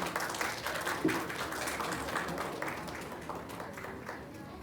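Audience clapping at a Uttarakhand community festival in Japan, a moderate patter of hands that starts fuller and gradually tapers off, with faint murmuring from the room beneath it.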